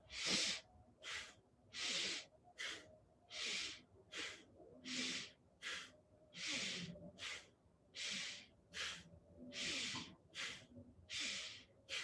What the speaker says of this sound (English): make certain that you're getting really deep inhales and exhales through the nose